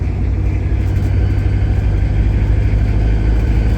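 1959 Plymouth taxi with a diesel engine running steadily, a loud, low rumbling drone heard from close by, with a continuous belt whine mixed into the engine noise.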